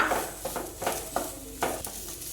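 Cooked soya chunks stirred with garam masala in a pan produce a faint sizzle beneath about five evenly spaced scraping strokes of a spoon, close and quiet, with no talk.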